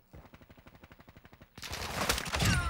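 A video game gun fires a quick string of about a dozen evenly spaced shots, then a louder, denser burst of gunfire and impacts follows near the end.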